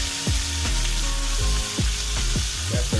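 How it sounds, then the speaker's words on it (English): Onions sizzle in a pan alongside tomatoes for a Creole chicken Florentine, a dense constant hiss close by with a series of sliding, ringing utensil scrapes cutting through it. "I want to cook these onions a little bit before I add the garlic"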